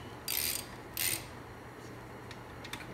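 A 10 mm socket on a hand ratchet gives two short, close bursts of ratcheting clicks, then a few faint ticks. The work is on a hydraulic pump for a mini snowcat.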